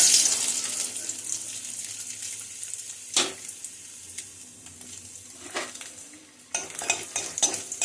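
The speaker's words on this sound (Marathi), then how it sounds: "आधी खोबरं भाजून घेऊया. तेल गरम झालंय." Grated coconut roasts in hot oil for a Kolhapuri-style spice paste, giving a soft steady sizzle broken by a few sharp scraping stirs and clatters of a spatula against the pan, close by.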